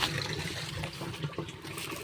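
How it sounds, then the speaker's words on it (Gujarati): Water runs steadily from a tap with uneven splashing as hands are rinsed under it, fairly close and continuous. "તો અહીંયા પાણી ચાલુ છે તો હાથ ધોઈ લઈએ"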